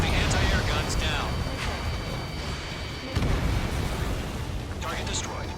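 Target explosions in the flight combat game Ace Combat 7 during a rescue mission, heavy booming blasts with rumbling tails, several bursts spread through the stretch, the strongest one midway, with radio chatter in between.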